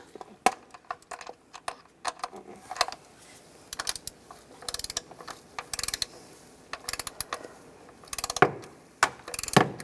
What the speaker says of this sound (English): I'm going to go around and torque these bolts to 88 inch-pounds